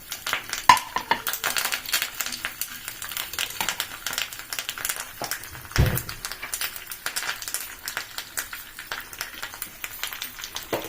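Curry leaves frying in a pan for buttermilk rasam, with rapid crackling spatter and clinks of a utensil against metal, and a dull knock midway.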